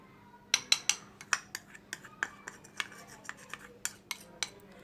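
Besan and coffee powder being mixed in a bowl with a spoon, a steady series of sharp metallic clinks and scrapes, about a dozen evenly spaced taps, close and clear with no talking.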